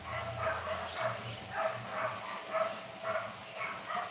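Dogs barking repeatedly at a steady, bouncy rhythm some distance off, with a fan-like hum running constantly underneath and no talk.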